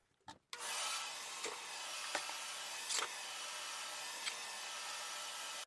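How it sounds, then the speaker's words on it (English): A vacuum cleaner switches on inside a masonry fireplace and runs with a steady, airy whoosh, a few small knocks and bumps punctuating the continuous drone. "we'll turn the vacuum on, and hopefully there won't be too much noise pollution"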